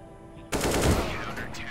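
Automatic gunfire in the video game CS:GO, a sudden close burst of rapid shots that rings out for over a second after a quiet lead-in, with no speech.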